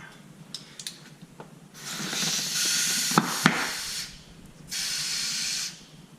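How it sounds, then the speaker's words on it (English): An air compressor hose inflates a tubeless mountain bike tire fitted with a CushCore insert, giving two bursts of hissing air with a couple of sharp pops as the beads seat. "So with an air compressor, just stick this on here real quick."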